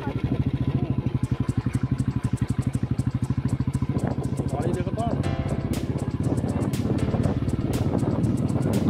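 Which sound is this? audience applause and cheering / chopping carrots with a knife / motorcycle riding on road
motorcycle riding on road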